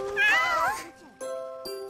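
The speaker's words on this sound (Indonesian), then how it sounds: "Aku sama Meme ngelamatin kucing ini" A cat meows twice, a long wavering cry followed by shorter calls, close and fairly loud.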